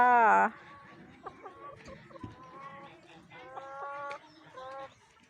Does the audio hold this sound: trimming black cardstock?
no